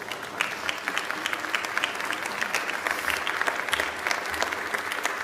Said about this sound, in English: so let's give Mom a round of applause.